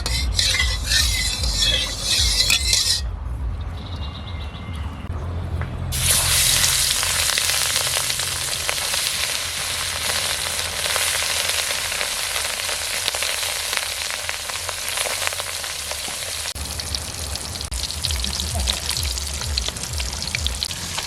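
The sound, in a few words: fish frying in mustard oil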